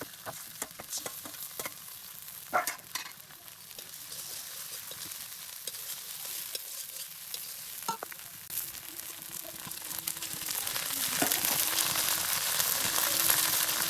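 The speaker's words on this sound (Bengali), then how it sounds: "এখন দিয়ে দিচ্ছি রসুন বাটা, আদা বাটা, জিরে বাটা, ধনে, সবগুলো মশলা ভালোভাবে কষিয়ে নিব" Garlic, ginger, cumin and coriander paste is sautéed for a chingri pulao, a soft, even sizzle with scattered clicks and scrapes of stirring that grow a little louder and hissier toward the end, no voices.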